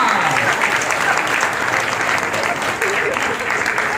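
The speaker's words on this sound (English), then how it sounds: "Ladies and gentlemen, round of applause for Gokul Garden and round for Kaisara" An audience at a Narasimha Chaturdashi drama applauds the performers with steady, dense clapping that holds at an even level throughout, like a full hall cheering without pause.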